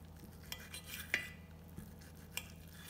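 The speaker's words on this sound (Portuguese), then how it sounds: "Eu vou cortar ele bem miúdo, ó." A knife cuts cooled cooked spinach finely on a plate, making faint, sparse taps and scrapes of metal on the plate, a few sharper clicks among quiet room noise.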